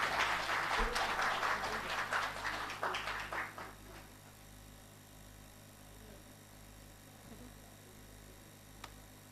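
Applause from a conference audience at the 107th Annual IEA Conference bursts out for about four seconds, then dies away into a quiet room hum.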